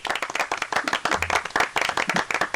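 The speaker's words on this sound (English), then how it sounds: "Round of applause." A studio audience bursts into a round of applause on a radio phone-in show, dense rapid clapping that runs steadily throughout at close range.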